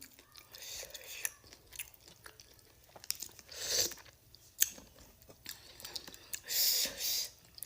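Biting into and chewing cheese-filled cireng in a creamy cheese broth, with close, wet crunching and chewing bursts between soft speech and quiet mouth sounds.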